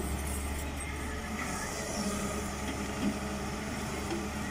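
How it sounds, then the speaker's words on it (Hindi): A Volvo 140 excavator engine runs steadily at about 1200 rpm while the machine works. It gives a continuous low mechanical drone at an even level with no talk. "वॉल्वो की मशीन है एक्सीवेटर 140 नंबर, जो कि इस वक्त काम कर रही है"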